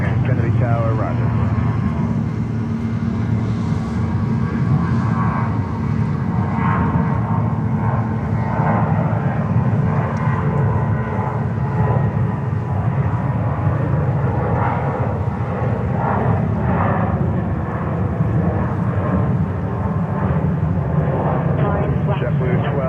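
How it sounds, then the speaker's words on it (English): A Korean Air Airbus A380 taxiing at JFK airport, a steady loud jet engine roar that holds throughout, with air traffic radio chatter running over it. "So the Korean 380 is finally taxiing."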